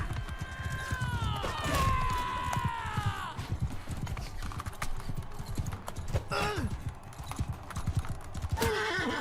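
Horse hooves clip-clop steadily through a mounted fight in the video game Mount & Blade II: Bannerlord, with a loud whinny near the start and battle noise all around.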